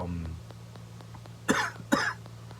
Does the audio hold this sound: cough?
yes